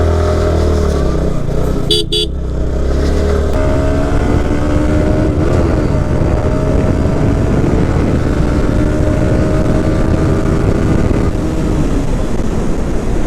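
A motorcycle engine roars close and loud during a Sunday road ride, its pitch climbing as it accelerates, with a short horn blast early on and wind rush throughout.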